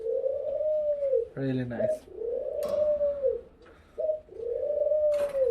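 Modena pigeons cooing in repeated low, drawn-out coos close by, with a person speaking briefly between the calls and a few faint sharp clicks.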